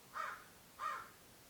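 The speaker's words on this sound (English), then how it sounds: "I'm just gonna yell at this crow" A crow gives two harsh caws about half a second apart, faint and somewhat distant against a quiet background.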